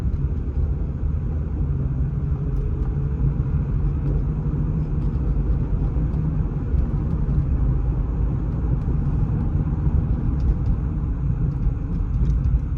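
A Toyota Solara drives along with a steady low engine and road rumble, smooth and continuous with no distinct gear-change breaks.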